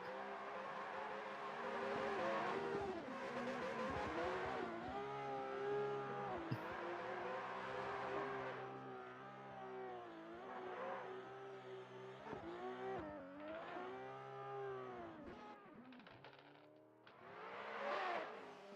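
A Mustang drift car in a drift competition revs and screams through repeated throttle surges, engine pitch rising and falling as it slides, loud and sustained with possible tire noise and no talk.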